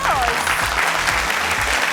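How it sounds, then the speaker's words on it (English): Steady, loud clapping from a crowd, with a voice briefly speaking over the start. "Let's give them a round of applause."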